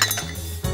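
Almonds drop into a mixer grinder jar with a quick, bright clatter of hard nuts hitting the container, a short burst followed by a second rattle.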